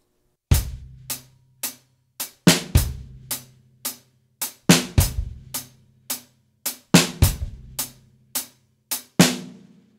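A drum kit plays a bass drum struck together with right-hand snare hits, a steady pattern of sharp, close, punchy strikes repeating at an even rhythm with no talking.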